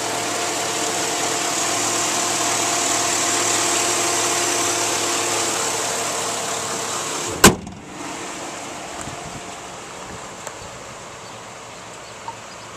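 A 2006 Chevrolet Z71 Crew Cab 4x4 pickup idles steadily and loudly up close, then a sharp thump like a door shutting cuts in, leaving a quieter engine hum with a couple of faint clicks.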